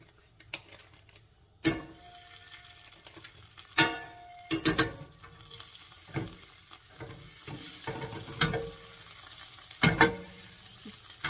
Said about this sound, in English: I'm going to add some butter and oil to this.